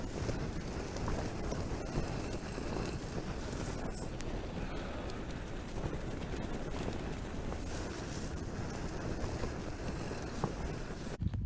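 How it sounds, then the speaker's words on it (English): Strong wind gusts buffet an MSR tent on a solo wild camp in Wales at night, a steady roaring rush with flapping surges, close and continuous, with no voices. "A really windy night."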